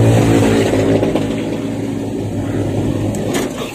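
A four-thread overlock sewing machine runs at speed, giving a loud, steady motor whir that eases slightly toward the end with no one speaking.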